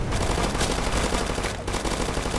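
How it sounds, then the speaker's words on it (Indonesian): Sustained automatic gunfire in the Roblox game Zombie Uprising, a dense loud burst of rapid shots running continuously with only a brief dip near the middle. "Bunuh semua. Tembak."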